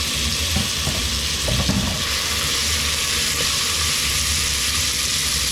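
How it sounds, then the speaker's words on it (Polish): Steady loud sizzling of vegetables frying in hot olive oil in a pot, with a few stirring scrapes early on, continuous and close. "wrzucamy nasze warzywa i podsmażamy je w garnku"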